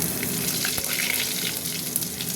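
Whole cumin seeds and a bay leaf sizzling in hot oil with moong dal and dried red chillies, a steady bright hiss with small crackles and pops, continuous and close, no talk.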